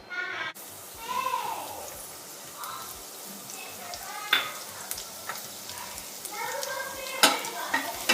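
Vegetables sautéing in hot olive oil in a pan for pasta arrabbiata, with a soft steady sizzle under scattered clinks and scrapes of a utensil against the pan, and a few sharp taps.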